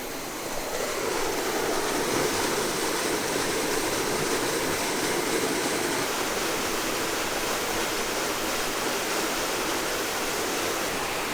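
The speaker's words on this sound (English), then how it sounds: "and this is the actual spring itself." Natural spring water rushes and gurgles steadily into a spring pool in Shannon County, Missouri, a broad continuous flowing sound heard close and loud with no pauses.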